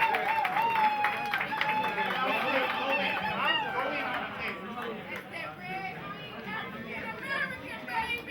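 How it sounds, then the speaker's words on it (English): A crowd honouring Roger E. Mosley breaks into applause mixed with loud chatter and cheering, the clapping fading gradually as voices carry on over it. "let's give a great round of applause to this great man right here"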